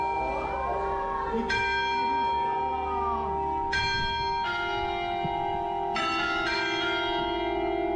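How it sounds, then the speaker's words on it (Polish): Church bells ring in the tower of Hallgrímskirkja, several large bells struck in turn with long sustained tones layering over one another, loud and close, with faint background voices underneath. "Na wieży można też przeżyć dźwięk kościelnych dzwonów, które naprawdę robią wrażenie."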